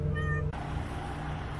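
A cat meows once inside a truck cab, a single close, loud drawn-out cry that breaks off into steady low engine rumble and cab noise, with no talking.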